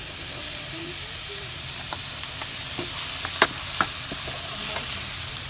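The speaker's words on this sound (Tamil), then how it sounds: "இப்பொழுது இதை நன்றாக கிண்ட வேண்டும்" Carrots and chilies stir-fried in a pan for nasi goreng, with a steady close sizzle and a few light scrapes and clinks of the spatula; no talking.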